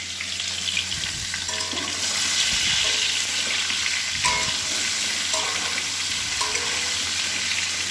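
Potatoes fry in a pan for alur dum, a dense steady sizzle broken by several scraping stirs with a spatula, close and moderately loud, with no talking.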